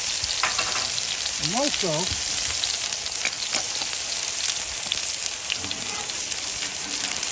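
Onions hit a hot Blackstone griddle and sizzle loudly and continuously up close, a broad steady crackle with a brief spoken remark near the start.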